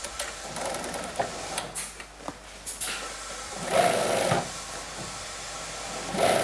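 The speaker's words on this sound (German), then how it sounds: "Im nächsten Arbeitsschritt werden die Hosenbeine innen zusammengenäht." A sewing machine stitches the inner leg seams of a pair of jeans, running in close mechanical bursts with short pauses, then a steadier whirring stretch near the end.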